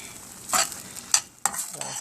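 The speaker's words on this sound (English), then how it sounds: "the frying here, you gotta reduce the heat some more" Food frying in oil in a pan, a soft background sizzle broken by three or four louder bursts of crackling as the food is stirred, close up and without talk.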